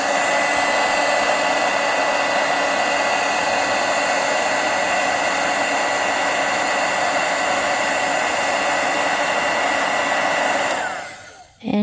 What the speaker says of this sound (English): if you have a really strong heat gun